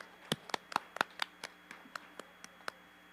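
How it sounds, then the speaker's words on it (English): Sparse, quiet hand claps ring out at a cosplay contest as the first contestant is welcomed, about a dozen separate claps at uneven intervals, fading toward the end. "Let's give a big round of applause for our very first contestant"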